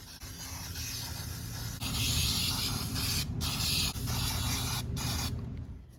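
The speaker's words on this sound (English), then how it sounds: "I'm going to lacquer it a little bit, just to make it a little nicer." Lacquer sprays onto a small fingerboard in a steady, close hiss that runs for several seconds, with two brief breaks near the end before it stops.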